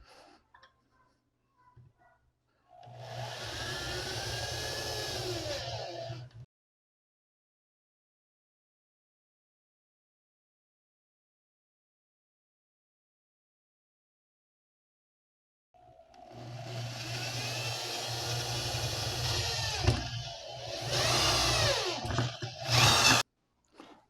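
Power drill with a quarter-inch bit boring holes through metal for an antenna rod, two sustained whirring runs of several seconds each, separated by a long silence, the second ending in rougher grinding bursts.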